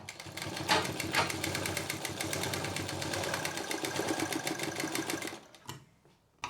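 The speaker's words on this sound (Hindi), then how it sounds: "और एक सिंपल सिलाई चला देंगे।" A single-needle sewing machine running a simple straight stitch on leftover fabric for a mini potli pouch, giving a rapid, steady mechanical rattle for about five seconds before stopping.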